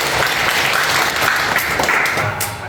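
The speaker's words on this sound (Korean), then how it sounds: "박수 한번 부탁드립니다." The audience at a Sunday lecture breaks into applause, a loud, full, continuous clatter of many hands in a room, holding steady before tapering slightly at the close, with no voices on top.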